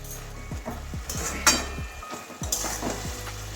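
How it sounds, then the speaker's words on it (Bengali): A bean, eggplant and leafy greens curry is stirred in a pan, a spoon scraping and clinking in quick repeated strokes over a soft steady sizzle, close and fairly quiet, with no voices. "ঢাকনাটা একবার খুলে দেখছি নাড়িয়ে দিচ্ছি যাতে না লেগে যায়"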